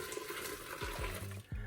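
Chicken stock, about 1.5 quarts, pours into a soup pot for broccoli cheddar soup, a steady watery splash with a few low glugging gurgles near the end.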